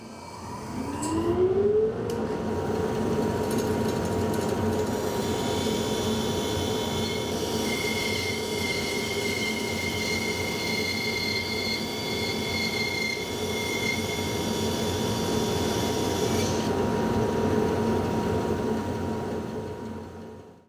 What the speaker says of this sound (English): I'm going to take this now over to the bandsaw and saw to this line